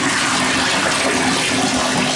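A household shower runs with strong water pressure, a dense, steady hiss of spraying water close and loud throughout, with no talk.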